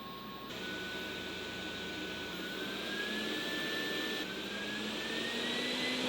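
A Roborock E25 robot vacuum runs at steady suction, a loud continuous whirring roar with a high motor whine that gradually rises in pitch as power modes change, with no talk.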